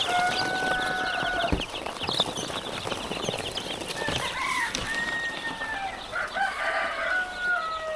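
Layer chickens and chicks in a poultry house fill the air with near, continuous clucking and chirping, several birds calling over one another, with occasional crows and shuffling, no one speaking.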